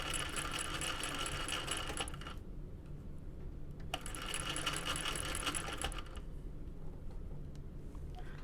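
A sewing machine stitches a bag strap pressed against the table edge at a long stitch length, two steady whirring runs separated by a quieter pause, close and loud.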